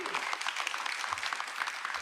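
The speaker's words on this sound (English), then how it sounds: "Jumaane Williams. Let's give him a round of applause." Crowd applause for public advocate Jumaane Williams at an indoor gun safety briefing in New York City with the mayor and governor, a steady, moderately faint patter of many hands lasting about two seconds.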